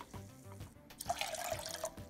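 About a second of water pours over oat groats in a pot, a soft splashing stream after quiet kitchen handling noises, faint and close.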